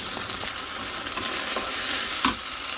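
Ginger garlic paste frying in a pan with a steady, dense sizzle that never lets up, a few soft stirring scrapes rising briefly above it, and no voices.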